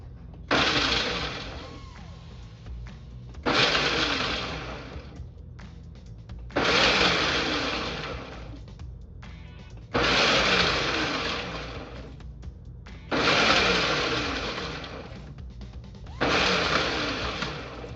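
A blender pulses bacon pieces in about six separate loud bursts, each a couple of seconds long, with short quiet gaps between them.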